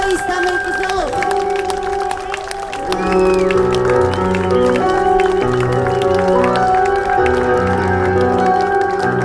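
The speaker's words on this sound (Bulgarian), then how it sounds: "Аплодисменти за домовете!" Wedding reception crowd applauding the hosts, steady loud clapping and cheering from many guests beneath a band's music, with an announcer's voice over the top.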